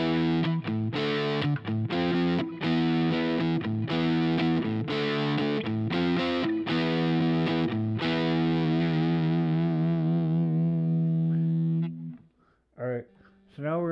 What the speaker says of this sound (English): I'm going to go ahead and go with a patch that's a bit wilder with some overdrive